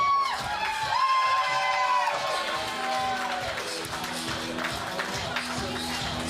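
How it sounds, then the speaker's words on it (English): A crowd at a wrestling event cheers and shouts with a steady roar of voices and scattered whoops; a commentator talks over it. "Crowd pretty receptive to both wrestlers here."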